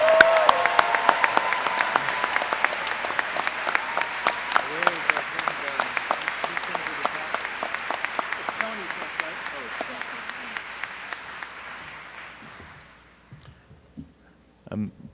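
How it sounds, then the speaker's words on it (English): A large commencement audience applauds the graduating class of 2022 at Newark Academy, with dense, steady clapping that fills the space for about twelve seconds before fading out, followed by a few isolated claps near the end. "How about a round of applause for the class of 2022?"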